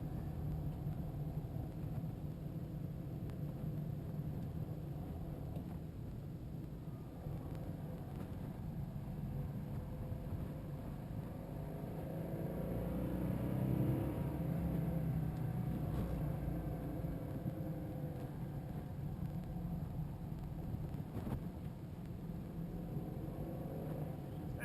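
A 1972 Honda Z600, a tiny 36-horsepower car, drives along with a steady, continuous low engine drone and road rumble heard from inside, swelling slightly midway.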